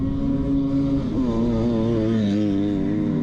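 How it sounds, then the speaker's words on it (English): Racing ATVs scream around an ice track at about 70 mph on the last lap of the Canadian Power Toboggan Championships, loud engines whining and shifting pitch as they pass close by. "These ATVs, 70 miles per hour on the last lap."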